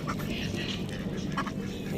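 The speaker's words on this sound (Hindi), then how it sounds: "यहाँ पे बतखें हैं। Very beautiful. ये देखें बतखें" Soft, faint quacks from ducks on a river, a couple of short calls over a dull background wash with a voice talking faintly underneath.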